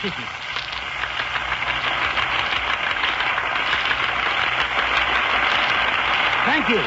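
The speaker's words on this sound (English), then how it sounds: "they're still clapping for you out there" A paying audience keeps clapping for a performer, a continuous wash of applause that sounds slightly distant and muffled, holding steady the whole time.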